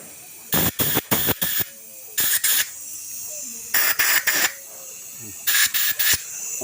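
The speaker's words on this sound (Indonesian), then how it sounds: "Gini, semprot kayak gini teman-teman ya." Carburetor cleaner is sprayed into a motorcycle carburetor in short, loud hissing bursts grouped in threes and fours, with quiet pauses between the groups and no talk.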